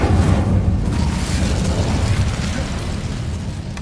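Incendio fire spell from Hogwarts Legacy on PS5, a heavy rumbling blast that hits at once and then roars steadily, loud and dense, slowly easing off.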